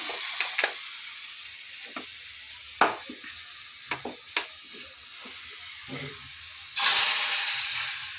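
A few quiet clicks and stirring sounds, then a sudden loud, sustained sizzle as a tempering of chili and curry leaves fried in oil is poured into vegetable kurma, close and without talk.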